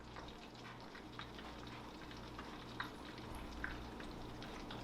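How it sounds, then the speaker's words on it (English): Steady sizzling and crackling of cod fillets frying in a hot pan, with occasional small pops over a constant low hum. "Get that frying up."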